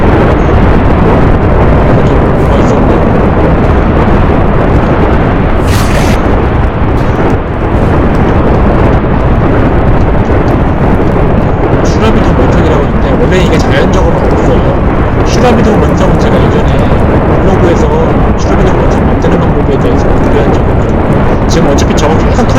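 Nuclear weapon detonation from a video game nuke mod, a sustained loud roaring blast rumble filling the whole stretch, with crackling bursts on top and someone talking over it.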